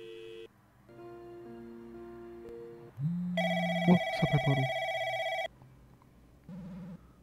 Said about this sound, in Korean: 전화 와가지고